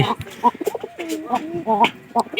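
Pigeons coo in soft, throaty, repeated calls close by, overlapping one another in a busy, murmuring cluster.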